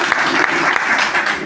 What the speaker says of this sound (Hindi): जोरदार ताली होना चाहिए ना सर